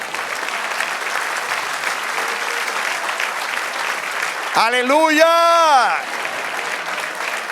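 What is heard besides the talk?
congregation applause in church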